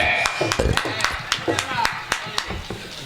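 Women in the audience at a Tamil stage ceremony clap in a scattered, uneven patter of sharp hand claps, moderately near, with a voice talking over them throughout.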